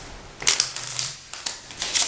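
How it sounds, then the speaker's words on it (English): A deck of playing cards being shuffled and cut by hand, giving a run of quick papery riffles and flicks close by, with no talk over it. "I might give it a couple of cuts, maybe give it shuffle"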